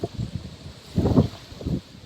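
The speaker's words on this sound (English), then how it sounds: "It is windy." Gusts of wind buffet the microphone in low rumbling bursts, rising and falling over a couple of seconds.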